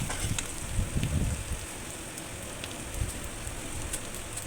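Whole cumin seeds sizzle in hot oil with onions fried until red, for a Bengali boal fish curry; a steady, dense crackling hiss, close by, with no talk.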